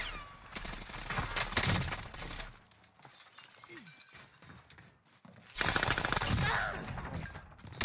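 Gunfire in the video game Warzone during a tournament match: bursts of rapid automatic shots, loud at the start and again toward the end, separated by quieter scattered shots and effects.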